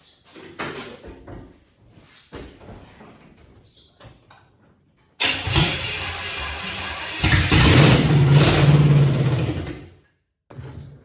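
A swapped engine in a 1965 Chevrolet Bel Air cranks and fires, loud rough running and revving that builds and then cuts off, following several quieter clunks and knocks.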